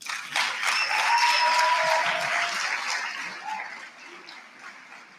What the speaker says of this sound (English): Okay, let's give them another round of applause.